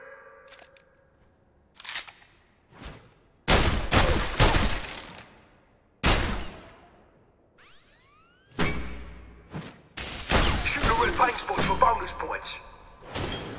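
Sharp gunshots in the PlayStation VR Worlds shooter crack out in scattered single shots and quick clusters, each ending in a short decaying echo, with mechanical clicks and whooshes between them.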